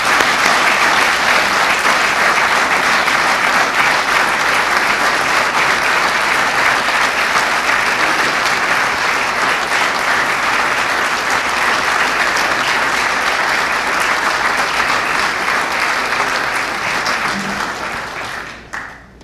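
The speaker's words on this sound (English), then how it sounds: "Give me a big round of applause." Steady, loud audience applause at a fire department awards ceremony in Vacaville, sustained clapping from a large crowd for nearly twenty seconds before tapering off at the end.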